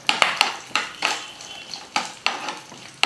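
Coconut and chana dal roast in a pan while a spoon stirs them, giving repeated scraping strokes with a light sizzle, close and fairly loud, with no voices.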